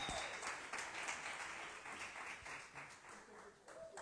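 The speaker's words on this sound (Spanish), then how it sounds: "aplauda al Cristo de gloria." Church congregation applauding, a faint, continuous wash of clapping from many hands heard at a distance, with a voice speaking briefly over it.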